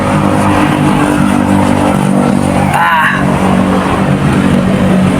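A GAC GN6 270T car engine revs at a Shell service station, a steady loud drone filling the clip with a brief dip midway, while someone speaks a word over it.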